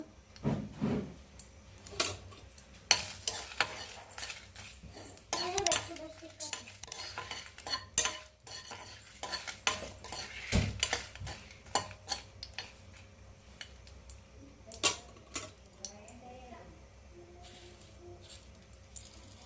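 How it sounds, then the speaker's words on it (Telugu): Red chillies tossed into hot oil in a pan, with a spoon repeatedly clanking and scraping the metal, intermittent stirring clatter over a faint sizzle, close by. "ఆయిల్ వేడి అయ్యాక వేసుకుందాం మిరపకాయలు"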